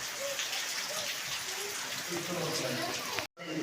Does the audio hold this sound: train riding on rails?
no